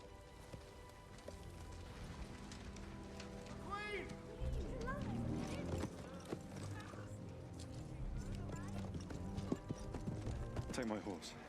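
Horse hooves clip-clop steadily through a dramatic fantasy TV scene, mixed with rain-like patter, music and people talking over it.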